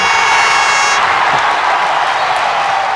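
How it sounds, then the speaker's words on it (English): Loud canned applause plays as a sound effect when a random name picker wheel stops, a dense, even roar of many clapping hands that holds steady throughout. "you can see a big loud applause there"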